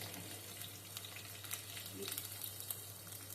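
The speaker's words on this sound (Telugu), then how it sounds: "ఈ కరివేపాకు ఇది వేగుతుండగాండి కొంచెం పచ్చిమిరపకాయలు వేసుకున్నానండి" Green chillies and curry leaves fry in hot oil in a pan, giving a steady soft sizzle with faint crackles and a low background hum, no voices.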